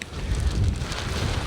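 Outdoor wind buffeting a microphone while backpacking gear is packed up, a continuous loud low rumble with gusty swells throughout.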